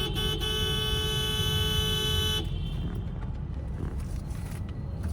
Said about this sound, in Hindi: मैंने इसको कंटिन्यू हॉर्न दे दिया